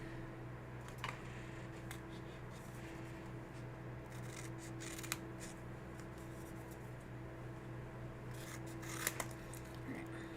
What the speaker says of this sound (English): so if I just snip this.